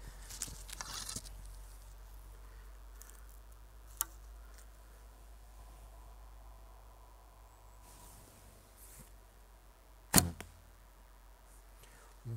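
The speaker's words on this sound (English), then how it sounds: "you can definitely hear it's not the quietest bow in the world" Arrows loosed from a recurve bow built on an S&H Icaro ILF riser with Uukha VX+ limbs, giving a few sharp, fairly loud string snaps spaced apart over a low steady background.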